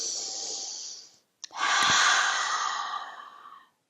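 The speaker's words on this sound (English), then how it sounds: "Take a big breath." A single big breath, a long hiss of air drawn in, a brief pause with a small catch, then a longer audible exhale that fades out, close and alone.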